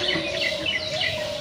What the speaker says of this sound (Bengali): পাখির বাচ্চাটা এখন চিৎকার করছে